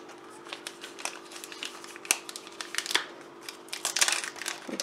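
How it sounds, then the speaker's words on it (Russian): Scissors snip the tip off the plastic wrapper of a glazed coconut curd snack, with a run of close, crisp crinkles and small cutting clicks that grow busier toward the end and have no speech over them. "Сейчас мы его отрежем, кончик вот тут"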